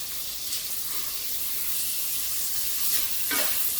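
Chana dal tipped into a tomato masala with salt, sizzling steadily in a pan with a brief stir near the end; a soft, continuous hiss, close and alone without talk.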